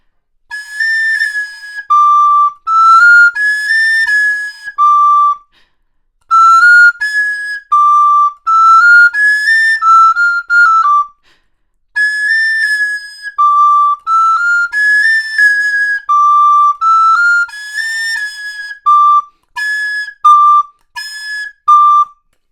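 A bright, breathy recorder plays a lively melody in short phrases with brief pauses, clear and close, no voices.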